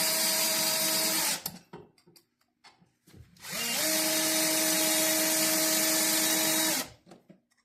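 Power drill driving 1/4 screws through a long shank screw bit while installing a LilliPad Marine Easy Step on a boat, close to handles; two sustained whirring bursts, the first about 1.5 seconds and the second about 3 seconds, close and loud.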